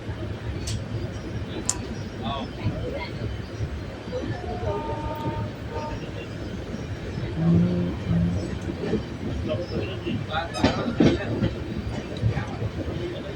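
Passenger train in India picking up speed again after a brief halt, heard from inside a carriage as a steady rumble with rhythmic clicks of wheels over rail joints, joined by a short horn-like tone midway and background chatter.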